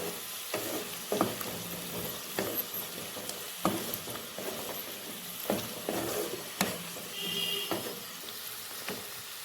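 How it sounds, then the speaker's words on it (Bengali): Potatoes fry on low flame with green chillies in a pan, a steady sizzle broken by repeated sharp scrapes and clacks of stirring at irregular intervals, close and fairly loud with no voices. "আলুটা ভাজা হয়ে গেছে"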